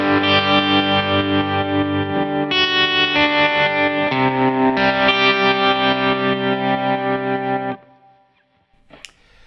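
Electric guitar drenched in distortion, chorus and echo effects plays a chord progression, letting chords ring out and arpeggiating them in sustained, loud, rhythmic passages before stopping and leaving a brief quiet tail.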